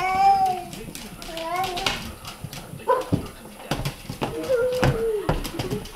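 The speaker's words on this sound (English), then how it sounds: "That dog is so funny." A dog makes whimpering, squeaky vocal sounds and short yelps in a family backyard setting, heard close and intermittently among children's voices and adult talk.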